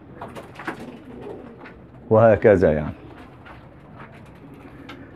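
Pigeons coo in a short, close burst of throaty, rolling calls, with someone talking softly before and after.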